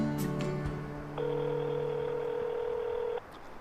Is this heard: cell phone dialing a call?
yes